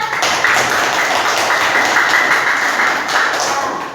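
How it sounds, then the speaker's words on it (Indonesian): Students in a middle-school classroom clap together, a steady patter of close applause lasting a few seconds before easing off slightly. "Tepuk tangan buat Mbak Jovina."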